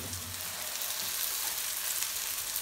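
Eggplant cubes frying in olive oil on a gas stove, a steady dense sizzle with fine crackling and bubbling that holds even and close throughout, with no talking.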